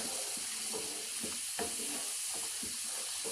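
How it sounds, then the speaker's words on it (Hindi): Chana cooked with spice masala sautéed in a pan at home, giving continuous loud sizzling broken by repeated scraping stirs of the spoon, close and without speech. "अब इसको हम खूब भूनेंगे थोड़ी देर।"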